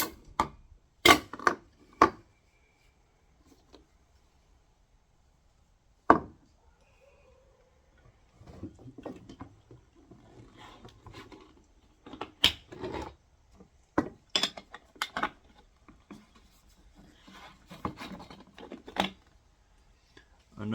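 A length of PVC water pipe being cut roughly in half gives sharp isolated clicks and snaps, then bursts of rasping, scratchy cutting strokes in a quiet room, with pauses between.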